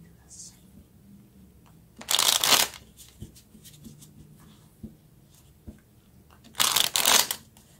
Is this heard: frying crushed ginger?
no